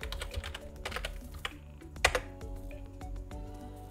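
Someone types on a computer keyboard with a short run of close, clicky keystrokes, a few louder taps standing out, over a low steady hum with no talk.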